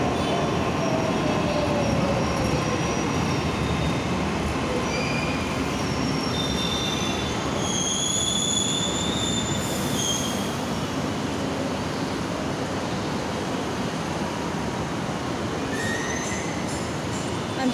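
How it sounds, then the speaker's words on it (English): A Mumbai metro train on the Kandivali Akurli to Aarey line rumbles steadily while its wheels squeal in long, high metallic whines that come and go, loud and continuous, with no talk. "Train is come. Metro train is come."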